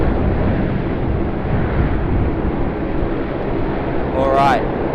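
A GE90-powered jet at Sydney Airport roars steadily from a distance, a broad continuous rumble and hiss with a brief higher whine rising near the end.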